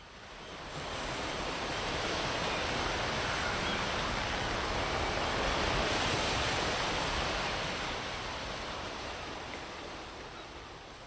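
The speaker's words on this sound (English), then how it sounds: "Water noises" Ocean water sound effect played during a tabletop role-playing game, a broad, steady wash of surf that swells gently and fades toward the end, heard alone without voices.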